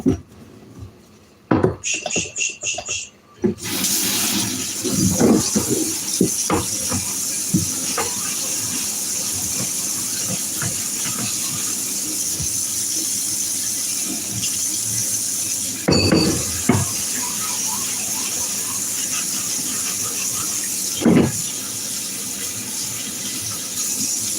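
Dishes being washed at a kitchen sink under running tap water, a steady broadband hiss of flowing water with occasional clinks and knocks, close and continuous, with a few brief voice sounds at the start.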